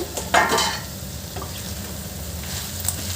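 Brinjal curry stirred as it fries in a pan, with a spoon scraping through the pieces over a steady close sizzle, one louder stir near the start.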